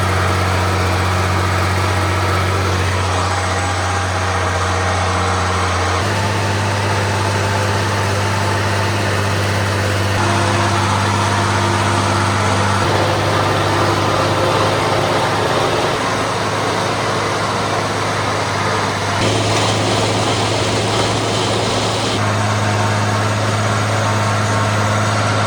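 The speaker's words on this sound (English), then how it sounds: "We're gonna get out and mow here this morning." A hay mower engine runs steadily at close range, a loud continuous drone that holds for the whole stretch with small shifts in pitch and load.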